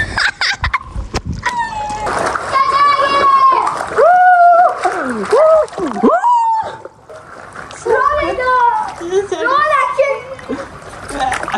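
Children shriek and chatter while rainwater splashes around them in a rooftop pool, lively and close, with high excited voices rising and falling throughout.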